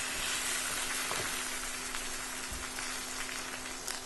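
Steak fat sizzles in a hot pan as the steak is stood on its edge to brown and crisp, a steady close crackling hiss with scattered pops and no talking.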